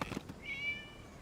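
A single short cat meow rises clearly out of a quiet background in Genshin Impact, preceded by a faint brief thump.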